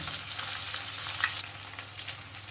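Eggs fry in hot oil in a pan, a close, continuous crackling sizzle that drops a little in strength partway through, with no voices.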